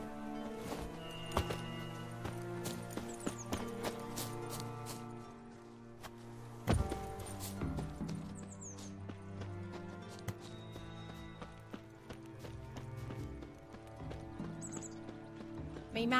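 Hooves of the horse Roach clip-clop in a rapid galloping rhythm in The Witcher 3, broken by a neigh, with game music layered throughout.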